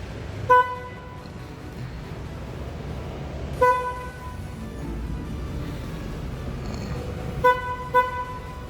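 A car horn blares in short, loud honks, three separate times with a quick double beep near the end, over a low engine rumble.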